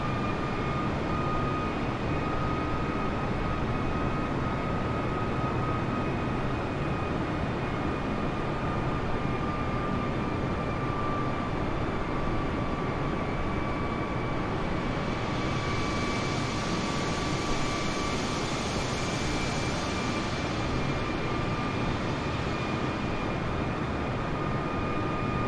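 A Qeshm Air airliner in flight, flaps set to 2, slowing to 180 knots at steady altitude, fills the cabin with a constant loud engine roar and broadband rush, joined by a steady high whine, with no pauses.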